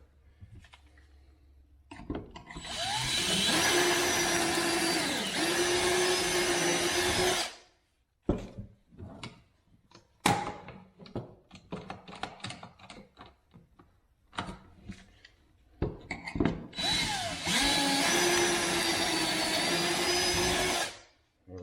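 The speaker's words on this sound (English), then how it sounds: "What it does is it drills a hole in there at an angle" A drill bores angled pocket holes into cabinet wood during a kitchen remodel, two long loud whining bursts of drilling separated by a stretch of clicks, knocks and handling noises nearby.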